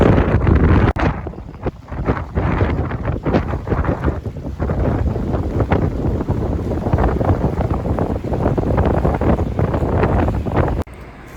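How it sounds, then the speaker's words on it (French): Strong wind buffets the microphone on a city street near the old buildings of Saint Petersburg State University, a loud, rough, continuous roar with gusty bursts that drops away abruptly at the end. "il y a du vent."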